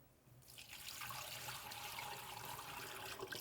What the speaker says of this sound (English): I'm going to pour a little bit of this water off.